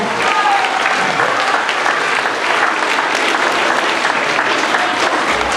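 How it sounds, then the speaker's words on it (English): A school assembly audience gives a big round of applause, dense continuous clapping from a large crowd that stays loud and even throughout. "Give yourselves a big round of applause"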